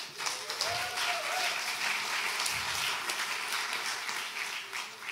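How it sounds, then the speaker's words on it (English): An audience at a security conference talk applauds in a dense, steady round of clapping that lasts throughout at an even level. "Please give a warm round of applause for those people."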